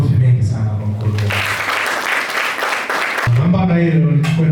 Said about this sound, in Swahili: Makofi mengi sana kwa mkurugenzi.